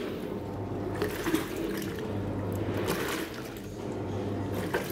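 Tap water pouring into a single-tub washing machine, a steady rushing, splashing flow with a low hum underneath, continuous and moderately close for the whole stretch.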